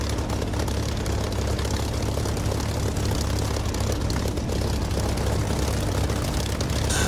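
Spitfire aircraft engines in the DCS flight simulator drone loudly and constantly, a dense propeller roar filling the whole stretch without letup.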